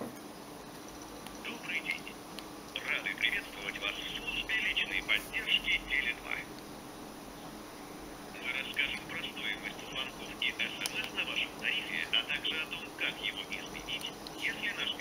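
Outgoing call tone from a Sony Ericsson T610 mobile phone: repeating electronic tone bursts in two clusters separated by a brief pause, at moderate level over faint background noise.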